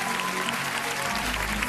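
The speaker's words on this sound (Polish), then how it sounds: "Wielki brawa" Applause from a small audience at the finale of a Polish modelling competition, a dense steady patter of clapping heard briefly on its own.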